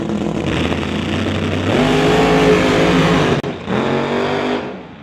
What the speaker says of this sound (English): You can hear him building up the boost and trying to hold that thing back as he trips on that bottom bulb.